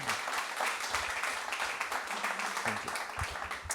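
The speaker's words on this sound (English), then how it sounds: "Give it up, big applaud for Donna" Audience applause for three speakers at a Harvard Human Flourishing Program event on Inner Development Goals: dense, steady clapping at moderate level, sustained throughout without a break.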